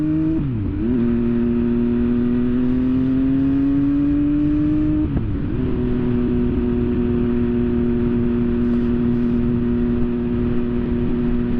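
An MV Agusta Brutale 800RR motorcycle engine drones steadily in first gear, its pitch climbing gradually, dropping briefly at a shift, then rising again as it pulls away under throttle.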